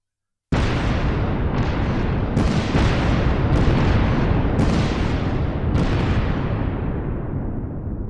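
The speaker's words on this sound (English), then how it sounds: "3:10 a.m. 19 mines detonate simultaneously." Nineteen mines detonating at once in a huge wartime blast, heard as a deep roaring rumble that bursts from silence and keeps rolling with several further surging booms, loud and continuous to the end.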